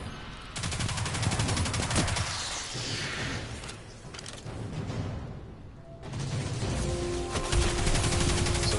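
Rapid weapon fire from a self-reloading gun in the shooter Destiny 2, dense continuous bursts of shots loud and close, briefly thinning midway before the firing resumes at full intensity with sparking arc effects.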